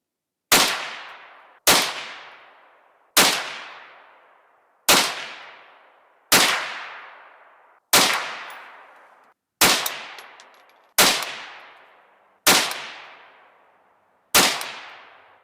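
Ten sharp rifle shots from a 22 Magnum firing Winchester 40 grain jacketed hollow point rounds, each loud crack decaying quickly, spaced about a second and a half apart.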